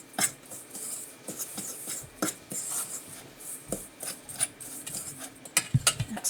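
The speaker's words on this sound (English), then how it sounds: "kind of rub that in, get it all coated" Hands rubbing curing seasoning into a raw beef brisket for corned beef, giving close, soft scraping and rubbing strokes in irregular bursts with a few sharper taps, no speech.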